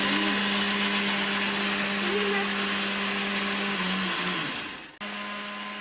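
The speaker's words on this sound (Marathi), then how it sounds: "आता साबुदाणा मिक्सर मधून ग्राइंड करून घ्यायचं." A mixer grinder grinding sago whirs loudly and steadily, its motor pitch dipping before it cuts off abruptly, then a hum resumes briefly.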